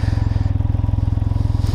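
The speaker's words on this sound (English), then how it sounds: "has a different sound when it's idling. It's almost like a kind of electric motor running kind of a sound in the background there" A Can-Am Ryker three-wheeled motorcycle idles close by with a loud, steady, fast pulsing throb and an even mechanical beat, and no other sound is heard.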